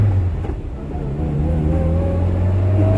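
A Fiat 1500 convertible pulling away in first gear, a loud, close, low engine drone that builds steadily in pitch and strength over three seconds.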